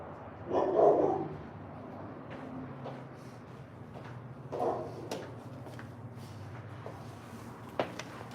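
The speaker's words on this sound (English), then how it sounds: "You're gonna keep barking, huh, Papa?" A dog barks a couple of times nearby, with a louder burst early on and another midway, followed by quieter room noise and a faint thump.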